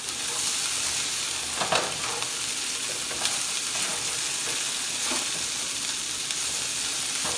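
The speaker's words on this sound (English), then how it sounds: "Give them a stir." Peppers and onions frying with potatoes in a pan, a steady sizzle broken by a few scraping stirs of the spatula, close and with no talking.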